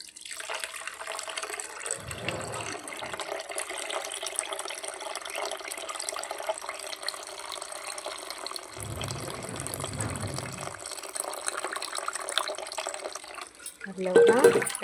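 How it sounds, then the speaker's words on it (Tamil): Water pours steadily and continuously into mango rasam in a pot, close and even, while someone talks briefly at moments over it. "இன்னும் கொஞ்சம் தண்ணி ஊற்றிக்கலாம்."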